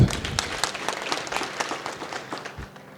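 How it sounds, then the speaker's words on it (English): An audience at a public service speech event breaks into applause, a dense burst of many hands clapping that starts loud and gradually thins and fades. "Can you give her a clap?"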